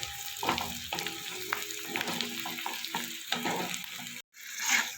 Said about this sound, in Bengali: এটাকে একটু নাড়াচাড়া করে একটু ভেজে নেব।